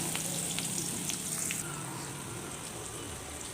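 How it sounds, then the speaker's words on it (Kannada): Chopped garlic, dried chillies and onion frying in oil in a village-style kitchen, giving a steady, close, even sizzle that holds throughout with no talking. "ಹೆಚ್ಕೊಂಡಿರೋವಂಥ ಬೆಳ್ಳುಳ್ಳಿ ಮತ್ತು ಒಣಮೆಣ್ಸಿನ್ಕಾಯಿ ಮತ್ತು ಈರುಳ್ಳಿ ಹಾಕ್ಕೊಳ್ತಾ ಇದ್ದೀನಿ ಚೆನ್ನಾಗಿ ಫ್ರೈ ಮಾಡ್ಕೋಬೇಕು"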